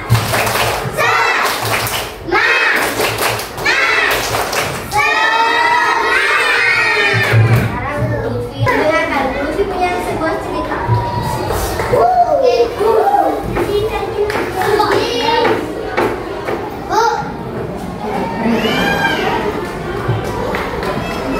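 A classroom of Indonesian primary school children does rhythmic spirit clapping, bursts of clapping alternating with loud chanting and shouting voices.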